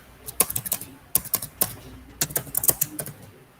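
Someone enters data on a computer keyboard, producing close, crisp key clicks in quick irregular bursts with short pauses between runs of strokes.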